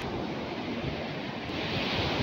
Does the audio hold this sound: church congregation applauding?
no